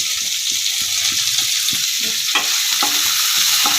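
Chopped onion, curry leaves and green chillies fry in a pan with a steady bright sizzle, close and loud, broken by regular soft scrapes and knocks of a spoon stirring, no voices.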